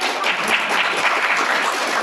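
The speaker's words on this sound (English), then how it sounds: "I think you can give him a round of applause" Steady, dense applause from an audience at a university emeritus professorial lecture, honoring a retiring professor; continuous clapping holds at an even level throughout with no speech.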